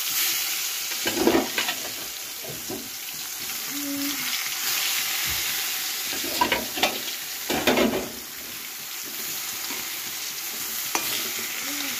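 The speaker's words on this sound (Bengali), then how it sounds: "তো এই দেখো বেগুন ভাজা করব সকালে খাবার জন্য।" Eggplant fries in oil in a wok for breakfast, giving a steady low sizzle with a few louder bursts of stirring and spatter, close and fairly faint, with no talk.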